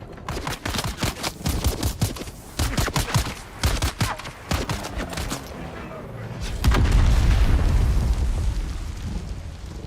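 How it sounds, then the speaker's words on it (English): Explosions in the video game Dune, with rapid rolling bursts like gunfire and booms crowding the first half, then a heavier sustained rumbling blast, loud and dense. "stuff exploding out there"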